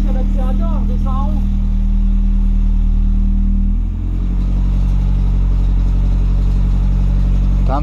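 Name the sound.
BMW 318is turbo engine running with metal rattle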